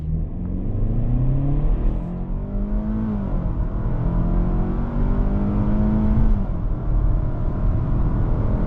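A 2025 Hyundai Tucson with a non-turbo 2.5-litre four-cylinder accelerates hard. The engine note climbs steadily, drops briefly at each gear change, then rises again, all as a close, continuous drone with road rumble underneath.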